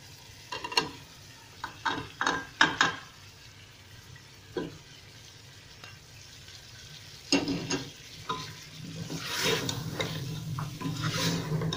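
Mutton frying with spices in a pot, a soft sizzle under repeated scraping strokes of a stirring spoon, coming in clusters of close, clattering scrapes with pauses between.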